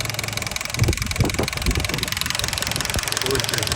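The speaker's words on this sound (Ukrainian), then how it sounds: "Двигун тут працює рівненько, гарненько." A 2010 Volkswagen Golf 6 with a 1.6 MPI petrol engine idles steadily with a low, even hum, while faint speech and a few clicks come through over the top.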